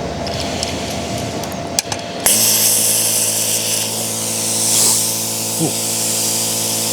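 Parkside Lidl plasma cutter with built-in compressor cutting metal: a loud, steady roaring hiss that starts abruptly and runs for several seconds, with a short exclamation from a person near the start.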